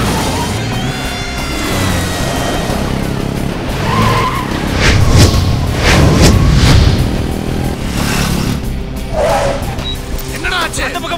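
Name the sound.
cars driving and skidding in a film chase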